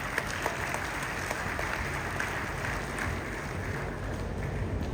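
An audience claps continuously at a speech event, a dense, steady wash of applause from start to finish with no pause.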